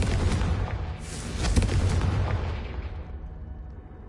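Confringo and Incendio spell blasts from the video game Hogwarts Legacy: a dense run of loud, booming fiery bursts that overlap one another, with sharp cracks near the middle, fading slightly toward the end.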